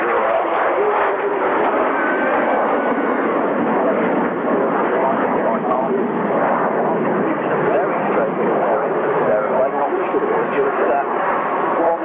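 Classic jet aircraft flying at the 1998 Cranfield airshow give a continuous, loud, broadband roar lasting throughout, with a voice talking over it.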